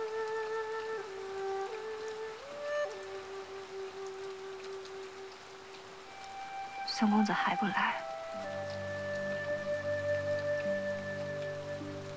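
Rain falls steadily through a quiet scene in a Chinese period costume drama, a soft continuous patter beneath gentle music while someone speaks over it.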